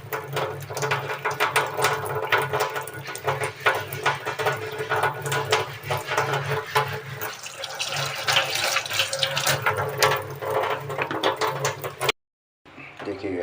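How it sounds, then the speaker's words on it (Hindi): Raw pork meat is rinsed by hand under a running kitchen tap, a steady splashing water stream filling the clip with brief sink clatter, then a short pause near the end. "सबसे पहले इसको अच्छी तरह से पानी से साफ कर दें यहाँ पे।"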